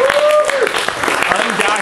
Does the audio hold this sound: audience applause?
yes